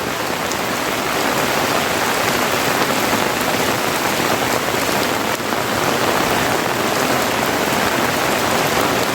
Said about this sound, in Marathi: आज दिवसभर पाऊस आहे आज दिवसभर पाऊस आहे